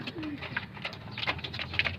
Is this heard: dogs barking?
no